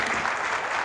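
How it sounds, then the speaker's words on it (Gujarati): Audience applause for Shastri saheb at a Gujarati poetry programme in Godhra, a short dense burst of clapping filling the whole moment at moderate loudness. "જોરદાર તાળીઓ શાસ્ત્રી સાહેબ માટે"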